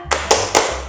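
Three quick, sharp hand claps in a steady rhythm, close and loud, part of a children's tepuk semangat spirit clap at a Sunday school service.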